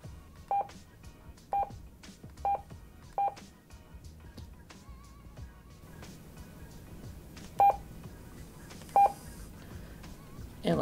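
Keypad tones from an AnyTone 868/878 handheld radio as a digital frequency is entered: a series of short, evenly spaced beeps, then two more after a pause, faint hum between, with soft talking in places.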